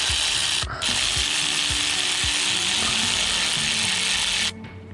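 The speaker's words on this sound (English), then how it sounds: "finish them off with my electric ratchet. because it's so much faster." An electric ratchet runs in a steady, continuous mechanical whir with a rapid clicking pawl while loosening spark plugs on a 2011-2020 Dodge Caravan with the 3.6L engine, close and loud, cutting off near the end.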